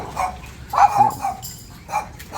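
Several dogs bark at an arriving car outside an aircon repair shop in Dumaguete, Philippines, with a burst of close barks in the middle and scattered yaps at either end.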